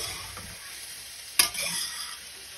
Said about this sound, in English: you can't stop stirring because you have a hot pot